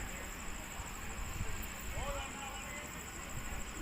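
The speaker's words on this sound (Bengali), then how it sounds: "ট্রেনটা তার প্ল্যাটফর্মে ঢুকে গেছে, আর এইদিকে আমার ট্রেনটা এখনই ঢুকবে।" A train rumbling into a station platform at night, a low steady roar with a thin metallic squeal and a high whine above.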